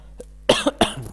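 A single harsh cough bursts out, followed quickly by a second, shorter cough, close to the microphone and otherwise alone in a quiet room.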